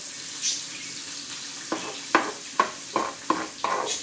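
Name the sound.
garlic and onion sautéing in oil with rice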